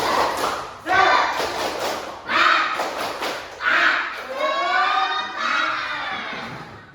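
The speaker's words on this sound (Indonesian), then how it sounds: "Tepuk semangat dulu yuk." A school class performs a rhythmic spirit clap, tepuk semangat, in bursts of loud group clapping mixed with children's shouted chanting, close and energetic.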